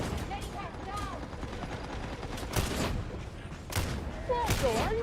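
Rapid gunfire from the video game Darktide fills the whole stretch as a dense, continuous barrage with a few louder bursts, mixed with game effects and a voice talking over it.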